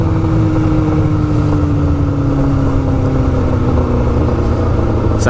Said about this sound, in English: Sounds good with that shorty pipe.